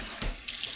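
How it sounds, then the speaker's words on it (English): Water sprays from a sink faucet over eggs being washed, a short hissing spray with a small thump of water near the start and a brighter burst toward the end, close and without talking. "I spray them all with water."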